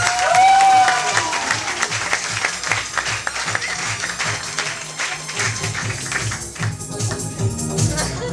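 Audience applause at a student dormitory entertainment evening in 2012, a dense crowd of clapping that runs throughout, loud and close, with a brief electric guitar note rising near the start and a faint voice underneath.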